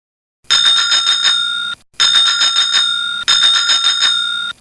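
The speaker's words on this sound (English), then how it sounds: "Bicycle." Bicycle bell rung in three quick bursts of rapid metallic trills, each ringing out briefly, bright and close with no other sound.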